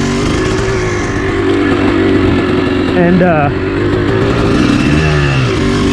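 Honda CRF110 pit bike engine droning steadily and loudly throughout a ride on a singletrack trail loop, with a brief pitch rise midway as the throttle opens, and someone talking over the engine.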